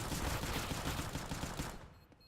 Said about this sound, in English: But you sprayed out your entire clip.